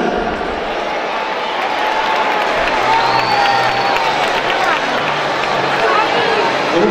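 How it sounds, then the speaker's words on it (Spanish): A crowd at a school league closing ceremony claps and cheers for a children's club team, a loud sustained wash of applause with voices and shouts mixed in throughout. "Con un fuerte aplauso, Club Atlético Torrevella."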